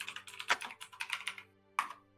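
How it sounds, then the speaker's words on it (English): Close, rapid typing on a computer keyboard, with a quick run of soft key clacks, a short pause, then a sharper final keystroke, heard alone without talk. "You were typing, and I'm like,"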